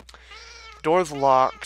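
Cat meowing in the video game Quiet, Please!, two drawn-out, fairly loud meows close by, the second rising and wavering, following a brief spoken line.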